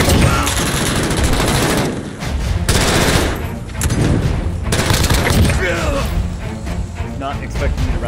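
Rapid automatic gunfire from a video game firefight rattles in dense bursts across the whole stretch, loud and close, with brief lulls between volleys, while a player talks over the shooting.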